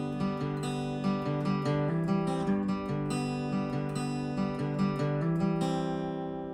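Acoustic guitar plays the intro of a song: a steady run of picked and strummed chords with a regular pulse, close and moderately loud, fading slightly at the end, with no voices.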